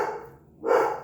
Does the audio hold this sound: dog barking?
yes